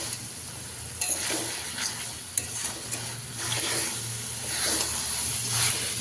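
Fried potato and pointed gourd being stirred into thick korma gravy, a steady close sizzle with repeated scraping strokes of a spoon against the pan and occasional sharp clicks, no talking.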